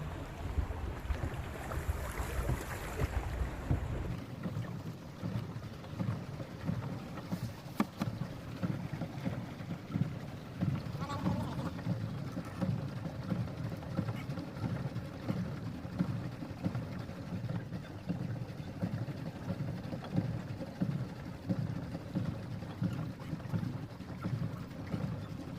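Motorboat cruising on the lake at Nandankanan Zoological Park in Odisha, a steady engine drone with wind buffeting the microphone and water rushing past, continuous throughout with no talking.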